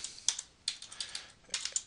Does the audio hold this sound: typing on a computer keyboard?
yes